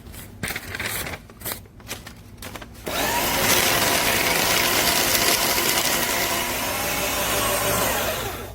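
An Aurora AS890C 8-sheet cross-cut paper and credit card shredder with steel cutting wheels starts with a few clattering handling sounds, then grinds loud and steady for several seconds before winding down.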